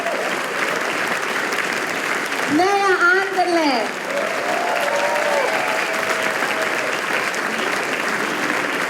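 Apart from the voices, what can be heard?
audience applause at a music school concert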